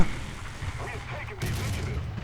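Tank gunfire in the War Thunder game, a sharp burst of shots and rumbling booms from a Valentine Mk.XI tank, loud and close over low engine rumble, with a voice talking over it.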